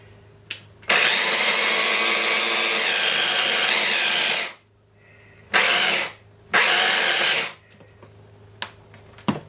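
Electric spice grinder pulverising Cajun spices with smoked salt and Espelette pepper, loud whirring bursts: one long run of about four seconds, then two shorter pulses, with quiet gaps between.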